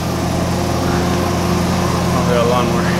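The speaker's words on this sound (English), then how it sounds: "I've got a lawnmower." A lawn mower engine runs close by at a constant loud drone with a steady low hum and no change in pace throughout.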